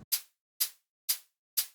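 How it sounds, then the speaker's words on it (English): A crisp electronic hi-hat sample ticks four times at an even pace, each bright, hissy hit decaying quickly into silence after a faint low blip at the very start. "The first one is just the hi-hat."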